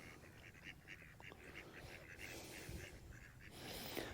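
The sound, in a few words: ducks at a frozen duck house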